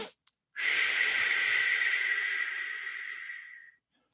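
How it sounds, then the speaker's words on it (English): A person breathes in a physiological sigh: two short, quick inhales followed by one long, steady exhale that hisses close to the microphone for about three seconds before fading out. "It's the double inhale, slow exhale, what he calls the physiological sigh."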